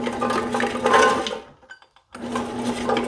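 A bread machine kneads cinnamon raisin bread dough with a steady mechanical whir and hum, cutting out to near silence for about half a second before starting up again, close and moderately loud.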